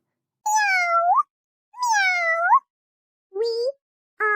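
Cats meowing in a storybook scene about a huge crowd of cats, four separate drawn-out mews with gaps of silence between them, close and clear, the last one cut short.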